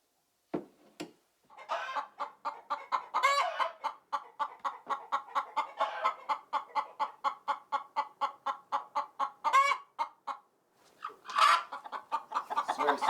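Homestead chickens clucking close by, a long run of rapid rhythmic clucks with a few louder squawks breaking through, no talk.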